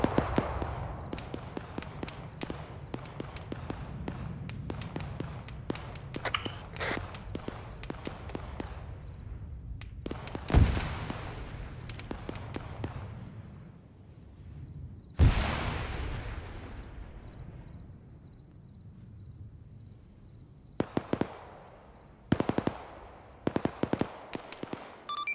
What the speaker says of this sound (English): I'm hearing gunshot on my 6, which is Archer 4 position